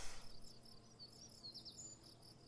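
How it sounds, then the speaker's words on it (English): Ambient outdoor nature sounds in the video game Kerbal Space Program: a steady, faint chorus of crickets or insects trilling, with occasional high bird chirps and tweets over a low background hum. "Do you guys hear the birds? I hear the birds."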